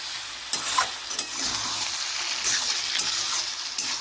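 Sugar melting and sizzling with potatoes in a frying pan for a Bengali potato and tomato curry, a steady crackling fry with intermittent stirring scrapes.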